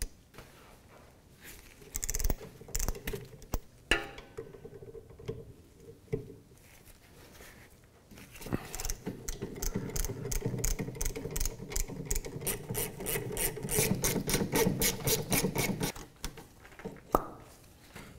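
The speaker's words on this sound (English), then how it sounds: "So we're going to remove the caliper bolts here. We're going to do that with a 14 millimeter socket." A breaker bar with a 14 mm socket works the rear brake caliper bolts on a 2007–2013 Mitsubishi Outlander, sharp rapid ratchet clicking in bursts, sparse at first, then a long dense run, close up and without speech.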